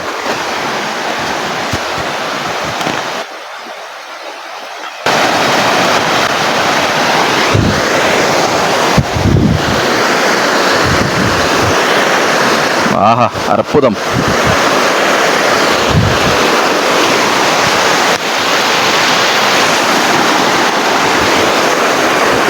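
Steady roaring rush of a forest waterfall near Marayoor, loud and continuous throughout, with a brief quieter break early on and a person speaking briefly over it.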